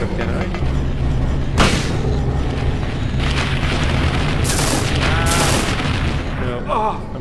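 Gunshots in Silent Hill crack out as several loud, sharp bursts spaced over a few seconds, two coming close together, against dense game noise, with a player talking and exclaiming throughout.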